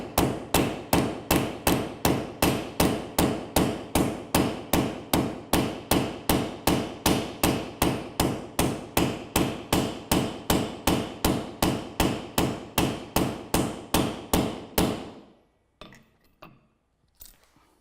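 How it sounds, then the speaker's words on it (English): A hammer strikes a piece of lead sheet about 3 millimetres thick laid over a pressblech die, sounding as a long run of evenly spaced, sharp metallic blows, close and loud, before stopping into near silence. "place it over the die and hit it with the hammer"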